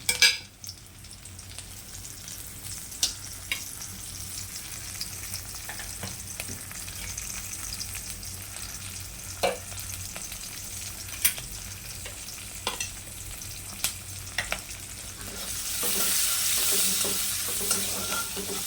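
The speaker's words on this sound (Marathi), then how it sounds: "हिरवी मिरची पण डाग पडेपर्यंत तिला भाजायची." Green chilies sizzling as they fry in a pan while making methi bhaji, a steady crackling hiss with intermittent stirring clicks that swells louder toward the end, no talking.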